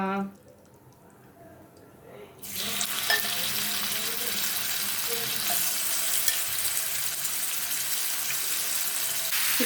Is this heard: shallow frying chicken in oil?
yes